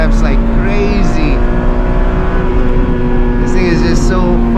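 A naturally aspirated 1.8-litre four-cylinder car engine revs hard and loud up close, the pitch climbing and falling in sustained pulls from start to finish.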